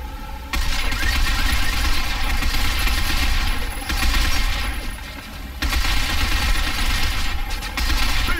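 Sustained bursts of gunfire in the video game Binary Domain, aimed at robots' legs, loud and continuous with brief dips between volleys and no talk.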